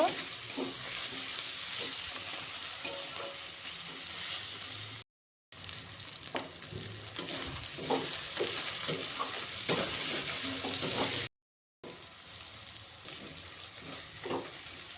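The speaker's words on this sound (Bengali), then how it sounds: "আদা রসুন দিয়ে আমি ভালো করে ভেজে নেব কাঁচা গন্ধটা যাওয়া পর্যন্ত" Ginger and garlic paste frying in a pan for a country chicken curry, a steady close sizzle with occasional stirring scrapes throughout, briefly cut twice.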